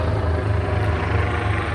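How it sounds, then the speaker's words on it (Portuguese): A helicopter flies over a beach, a steady low rotor thrum with constant engine drone, fairly loud and continuous, with no talk over it. "Gravar na praia é isso aí, o helicóptero."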